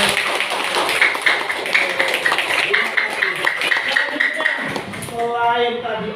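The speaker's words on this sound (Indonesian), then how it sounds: "Tepuk tangan dong." A school class claps in a quick, regular rhythm of many hands for several seconds before it breaks off, loud and near, while voices of children and a teacher mix in.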